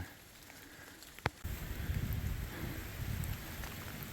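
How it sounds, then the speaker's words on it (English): Steady rain patters onto rock nearby, a soft hiss that swells louder partway through, with one sharp click before it. "Still raining on us"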